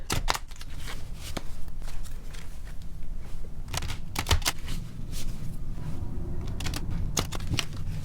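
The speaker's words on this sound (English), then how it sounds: "Shuffle the cards a couple of times." Tarot cards are shuffled in quick riffling bursts, several rounds of soft flicking and slapping close by, with quiet pauses between them.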